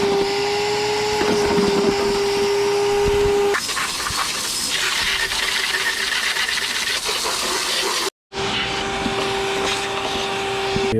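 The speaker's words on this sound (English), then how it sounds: "I've got quite a bit of leaves down there, so I'm going to get my shop vac out" A shop vac loudly sucks dry leaves out of the bottom of a home air conditioner unit, a steady close roar with a whine that shifts in pitch as debris is drawn in, cutting out briefly near the end before restarting.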